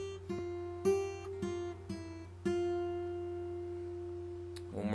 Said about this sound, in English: So after you have the hammer on, it sounds like this.